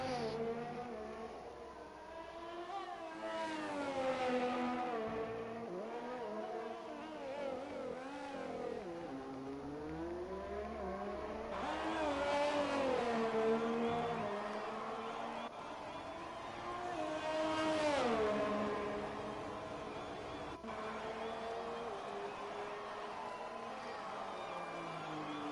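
F1 race car engines in an esports racing video game at the Australian Grand Prix, a layered high whine of several cars rising and falling through gear shifts, steady and continuous with some swells of revving.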